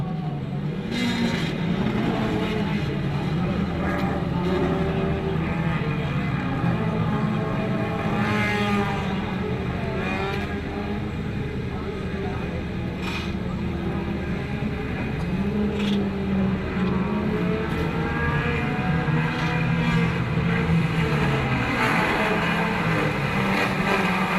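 Race cars in a Mini 7 race roar around a circuit, their loud engines droning continuously with pitch that climbs and drops as several cars accelerate and pass one after another.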